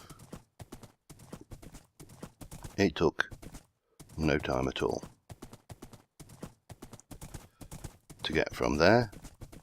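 In the video game Magic Farm 2, a ridden horse's hooves clip-clop in a fast, steady rhythm throughout, with someone talking over them in short bursts.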